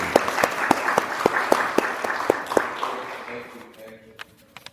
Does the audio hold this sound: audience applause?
yes